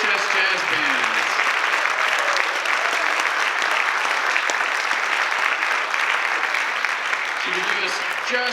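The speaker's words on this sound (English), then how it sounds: "a round of applause for our BHS jazz bands" Sustained audience applause for a high school jazz band at a spring band concert, a dense, steady wash of clapping from a large crowd that holds evenly throughout, with faint voices underneath.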